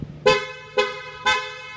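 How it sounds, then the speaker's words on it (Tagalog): Pia horn fitted to a 2025 Yamaha Aerox 155 SP scooter sounds three loud, close, bright honks in quick succession, each a short tonal blast, with no talking. "Lakas ng busina. Pia horn yan."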